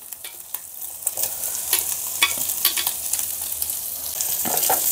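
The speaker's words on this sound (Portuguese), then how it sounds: "Coloco a cebola já em seguida para ir fritando também." Onions and calabresa sausage fry in a single pan, with a steady close sizzle and crackle and occasional stirring scrapes that grow slightly louder toward the end. Nobody speaks.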